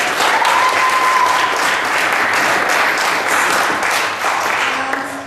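Audience applauding a contestant at a live talent show, a loud, dense, sustained round of clapping that gradually thins toward the end.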